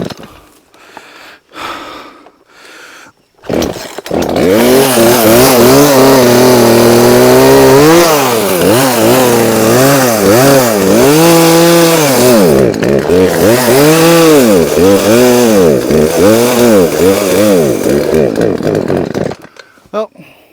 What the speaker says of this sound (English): I'm gonna go grab the chainsaw and see if I can get it to run.